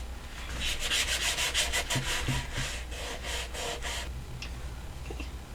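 Antique wax wiped onto a bucket with a cloth, a series of brisk rhythmic rubbing strokes, close and fairly loud, easing into softer wiping toward the end.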